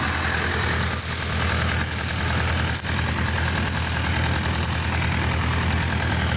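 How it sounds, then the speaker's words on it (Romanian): An old Claas Europa combine harvester engine idles steadily at a field of barley, a constant low, heavy rumble with a rough knocking texture, close and unbroken throughout. "Poate vă întrebați de ce nu opresc motorul."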